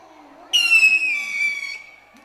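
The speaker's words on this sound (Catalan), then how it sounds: "petards de totes mides i colors i, sobretot, coets." A whistling firework rocket at a Sant Joan night celebration in a town square gives a single shrill, falling whistle lasting over a second, fairly close, with no bang following.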